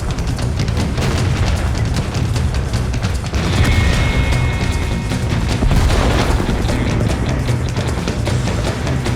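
Tank artillery shells fire and explode in a video game battle, a continuous run of loud, heavy booms and crashing blasts with rumbling low end and no pauses.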